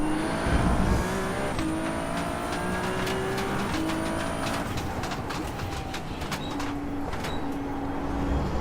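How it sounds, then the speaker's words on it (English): A GT3 race car engine in the iRacing video game whines and climbs through gears, pitch rising and dropping with each shift, loud and continuous with no talking. "honestly, Philip, whether the Aston has better handling or not. It just sounds brilliant"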